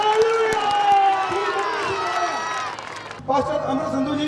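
Crowd at an outdoor Christmas rally procession cheering and whooping with scattered clapping, loud and sustained, with voices mixed in and a brief dip before the noise swells again.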